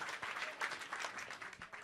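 Applause from the audience at a Frisian comedy show: a steady, even wash of many hands clapping, heard faintly and at a distance throughout.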